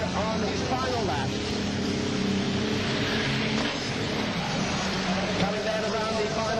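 Race car from the 1980 Bangor Caravan race sweeping around the far side of the track on its final lap, with a steady engine drone and crowd or commentary murmur blended underneath.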